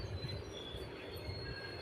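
A train passes close by, a steady quiet rumble of wagons on the rails with a thin, sustained wheel squeal running through it, and no voices.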